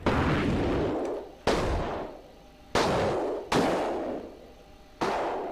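A self-propelled artillery unit in the DCS World combat simulator fires four booming rounds, each a sharp, loud blast followed by a long rumbling decay, coming at irregular intervals of about one to one and a half seconds.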